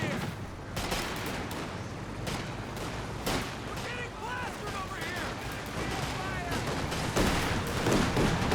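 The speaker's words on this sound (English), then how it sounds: "the half-track will get a volley on the Volkswagens" A half-track fires gunfire volleys in Company of Heroes 2, with repeated rattling bursts and distant shots over a busy battlefield and a voice commentating underneath.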